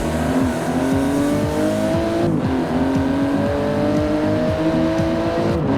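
A car's engine roars and accelerates in Forza Horizon 4, loud and close, running through rising revs and gear changes with no voices over it.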